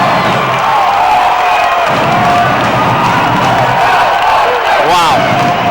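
Crowd cheering and roaring through a 1988 PSAC men's basketball final game, a sustained loud wash of voices across the gym with a brief whistle-like sweep near the end.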